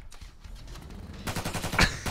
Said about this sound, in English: Whoa, a front machine gun?